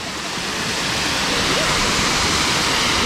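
Waterfall at Recanto Feliz roars as a loud, steady rush of falling water heard up close, a dense continuous wash with no pauses.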